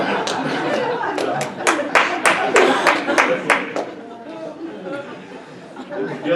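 Lecture audience gives a short burst of clapping mixed with chatter and light laughter, several distinct sharp claps in the first few seconds that fade into murmuring voices.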